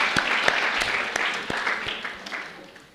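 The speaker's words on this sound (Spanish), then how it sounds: "Fantástico, ¿no? Un aplauso." An audience at a corporate conference talk gives a round of applause, a burst of distinct claps close together that thins out and fades over a few seconds.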